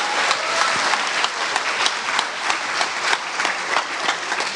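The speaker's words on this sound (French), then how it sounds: "on l'applaudit bien fort." Conference audience giving loud, sustained applause, a close, dense clatter of many hands clapping without speech.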